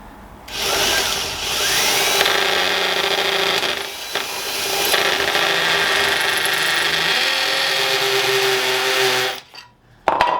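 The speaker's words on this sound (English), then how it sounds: "Not sure whether the drill was moving in the chuck or the drill was going in the wall then." Power drill boring into a block wall in a home workshop, a loud continuous whining grind lasting most of the clip with a short dip midway, then stopping abruptly.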